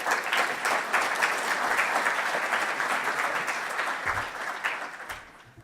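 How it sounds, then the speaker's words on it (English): An audience in Auckland applauds the city's mayor, Phil Goff, as he is introduced at an event on homelessness: loud, sustained clapping from many hands that stays dense for several seconds, then thins and fades out. "A round of applause"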